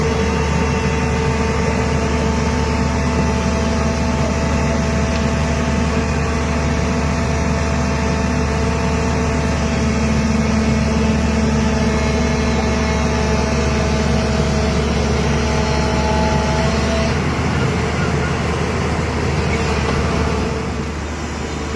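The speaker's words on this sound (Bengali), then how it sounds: "তো জেসিবি অক্লান্ত পরিশ্রম করছে, একটা জেসিবিকে আরেকটা জেসিবি সাপোর্ট দিচ্ছে" JCB excavators labour to launch a big boat at the sea, a heavy, continuous low engine drone with steady mechanical whine, easing slightly near the end.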